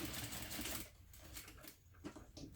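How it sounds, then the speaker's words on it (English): A sewing machine stitches a seam on a baby garment pattern, a quiet, rapid mechanical whirring and needle clatter that runs steadily, then eases into a softer intermittent rhythm with no talking. "Sew in just a tiny bit more to make sure that you cover that."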